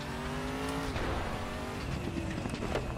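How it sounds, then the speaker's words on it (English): V8 engine of the GTR GT1 race car in the RaceRoom racing sim, a loud continuous roar with rising and falling revs through gear changes, and no voices. "But just this V8 of the GTR GT1, this is a beast."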